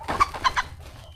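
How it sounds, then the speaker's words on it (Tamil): An Idaivettu rooster, about 6.5 months old and 2.5 kg, on a country chicken farm gives a quick run of three or four nearby clucks within a second, clear and moderately loud. "இந்த அங்கே நிற்கிற சேவல் பார்த்திங்கன்னா இடைவெட்டு சேவல் தான்."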